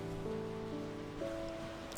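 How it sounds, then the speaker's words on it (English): Ocean waves in the video game RefindSelf make a soft, continuous surf wash, with gentle sustained music tones layered over it and no voices. "It's nice listening to the waves."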